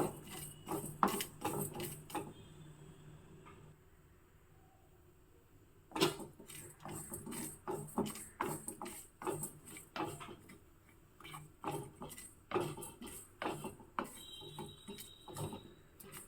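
Lentils and black pepper dry-roasting in a pan for Mysore-style huli powder: steady rapid ticking and rattling of grains being stirred, close and moderately loud, with no talking.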